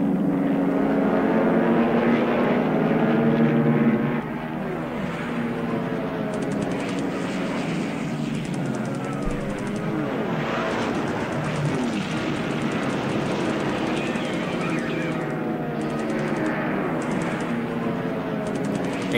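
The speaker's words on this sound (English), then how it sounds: "So all the Dutch bombers are coming," Dutch bombers in the War in the Pacific strategy game give a steady, droning propeller-engine hum that swells slightly and then settles, holding at a moderate level throughout with no talking.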